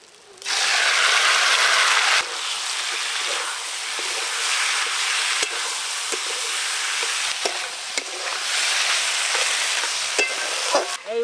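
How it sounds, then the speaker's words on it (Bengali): Taro stolons coated in spices and nigella seeds fry loudly in a pan, a dense close hiss that swells right after they go in, with intermittent ticks and scrapes of a spatula stirring throughout. "এইভাবে খানিকক্ষণ নাড়বো, নাড়তে নাড়তেই কষা হয়ে যাবে।"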